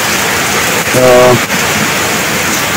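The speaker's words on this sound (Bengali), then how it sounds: "সকাল সকাল বৃষ্টি নেমে গেল" A heavy morning downpour makes a dense, steady hiss throughout, and a voice speaks briefly over it.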